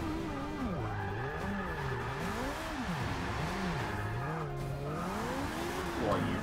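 A car drifting in Forza Motorsport 6 keeps up a continuous revving engine that rises and falls in pitch, with tire squeal layered over the engine note throughout.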